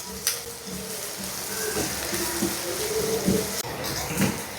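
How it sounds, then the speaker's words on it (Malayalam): Onion frying in oil with fennel seeds in a home kitchen, a soft continuous sizzle with faint stirring clatter and occasional utensil knocks, fairly quiet and steady. "സബോള ഒന്ന് ചെറുതായിട്ട് ഒരു ഗോൾഡൻ കളർ ആവണ വരെ നമുക്കൊന്ന് ഇളക്കി കൊടുക്കണം കേട്ടോ"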